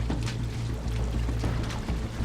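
Seawater pours into a boat through an opened floorboard, a steady, loud rushing wash with no break.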